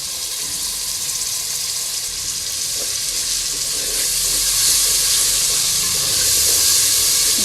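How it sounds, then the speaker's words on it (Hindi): Ginger garlic paste and green chilli paste frying in a pan for chikar chhole, giving a steady, loud, close sizzle and hiss that swells slightly midway, with no voices. "अब इसमें डालेंगे अदरक लहसुन का पेस्ट और हरी मिर्च का पेस्ट।"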